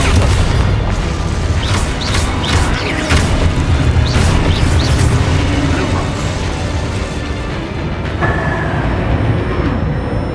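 Spell blasts and magical explosions in Hogwarts Legacy combat ring out as repeated sharp bursts over a dense, continuous rumble of game battle noise, loud and close throughout with no talk.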